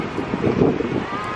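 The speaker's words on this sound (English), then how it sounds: "Sorry, it's so windy, you might not be able to hear me." Strong wind buffets the microphone with a steady rumbling roar at Disney World's Fort Wilderness, and a voice is partly audible beneath it.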